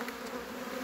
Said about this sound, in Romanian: Acele albine sunt pui care ies la zbor după ora 15, după masă.